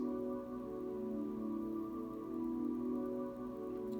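Sustained ambient synth pad from Spitfire Labs with no Gross Beat effect, a soft, churchy chord of steady droning tones holding evenly at low volume, with no voices.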